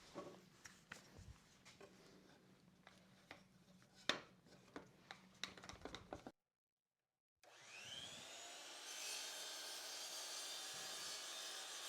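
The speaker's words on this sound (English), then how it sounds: "the first cut, we need to just cut the edge to get it to a 45-degree" A wooden board edge is sawn at a 45-degree angle while clamped for a box build, heard as steady rasping and whirring cuts, broken by a short silence before a louder, continuous machine run.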